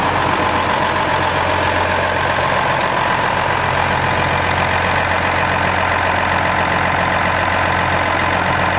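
Tractor engine idling at the Red Power Round Up 2019, a steady, loud mechanical rumble that holds constant throughout with no breaks.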